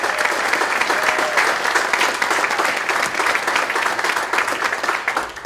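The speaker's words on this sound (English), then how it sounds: "Let's applaud Bernie for that leadership" Crowd at the 2016 Vermont Democratic Convention applauding Bernie, loud, sustained clapping from many hands that stays strong and even throughout, with a faint murmur of voices mixed in.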